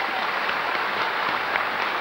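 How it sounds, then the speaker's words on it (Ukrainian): Studio audience applause during a 1994 Ukrainian UT-1 television broadcast, a dense, steady wash of many hands clapping at even loudness for the full two seconds, with no voices above it. "Ваши аплодисменты!"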